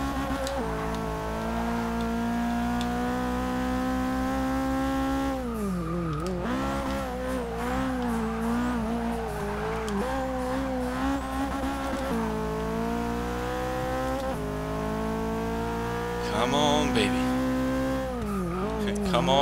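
Turbocharged GT86 race car in Forza Motorsport 6, engine droning loud and steady through gear changes, pitch sweeping up and down with brief tire squeal and skidding.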